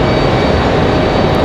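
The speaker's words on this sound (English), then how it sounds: "we do have Southwest landing on this side here in just a moment" A Southwest Boeing 737-700 airliner, arriving from Chicago Midway, lands at Raleigh-Durham airport with a steady, loud broadband jet roar that holds evenly throughout the short stretch, with no talking.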